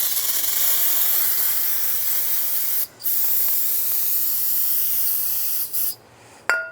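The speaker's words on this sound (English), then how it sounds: "just take some brake parts cleaner and a rag and just wipe down the surface area where the gasket's gonna seat" Brake parts cleaner hisses from an aerosol can onto the timing cover of a 2007-2013 Chevy Silverado, in close, steady bursts broken by a few short pauses near the end.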